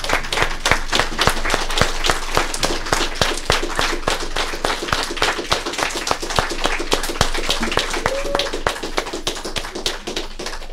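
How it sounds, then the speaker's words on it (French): Funeral attendees stand and applaud during a memorial ceremony, many hands clapping in a steady, loud ovation lasting about ten seconds, with a brief voice rising faintly partway through. "j'aimerais ça qu'on se lève debout puis qu'on lui donne une bonne main d'applaudissement"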